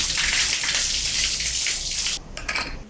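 Running water splashes over hands as they are rinsed clean, a dense close hiss that drops away near the end to a few scattered drips and splashes.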